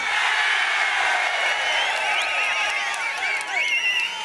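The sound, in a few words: crowd cheering at a political rally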